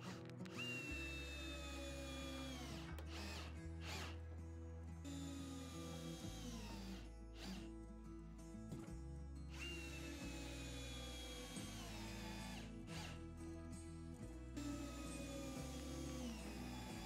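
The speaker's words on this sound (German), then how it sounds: "Mit langen Schrauben wird oben, unten und in der Mitte auf beiden Seiten her verschraubt." A power drill drives long screws into the wall panels of a Karibu Hytti 3 garden sauna, with repeated whirring bursts of varying pitch and short pauses between, close and fairly loud over a constant background tone.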